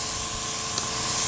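A spray can sprays Kamar varnish onto alcohol-ink resin art, a loud, close, continuous hiss with no talk.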